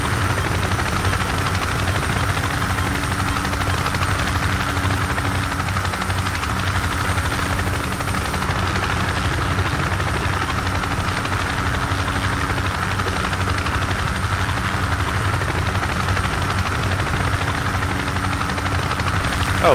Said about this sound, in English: Oh, whoops, I went in the chopper.